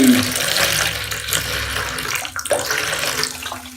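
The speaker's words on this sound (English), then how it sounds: "I'm just going to pour the vinegar into the salad bowl" Distilled white vinegar, 4% acidity, poured from a container into a salad bowl, giving a steady close liquid splash and gurgle for a few seconds with a brief dip midway, no talking.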